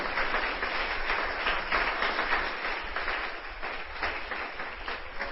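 A church congregation claps steadily for several seconds, a dense, even wash of many hands heard at moderate distance in a reverberant hall.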